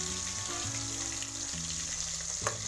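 Koi fish fry in hot oil for a traditional Bengali fish curry, giving off a steady, close sizzle with a faint crackle throughout. No voices are present.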